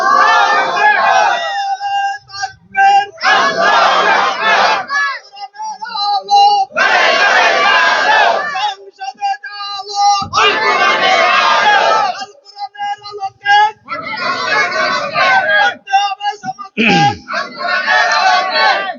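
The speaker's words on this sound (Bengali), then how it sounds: "দুহাত উঁচু করে একটা স্লোগান দিয়ে দেখান।" A large crowd at a Bangladeshi Islamic religious gathering shouts a slogan in unison, loud and near, in repeated rhythmic bursts with short pauses between chants.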